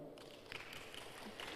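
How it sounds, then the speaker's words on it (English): Applause at a health sciences conference: a brief, dense burst of clapping from the audience, moderately loud and continuous for its short length. "So big applause for her."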